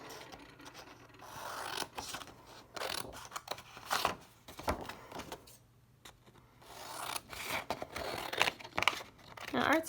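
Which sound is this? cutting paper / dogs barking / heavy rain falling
cutting paper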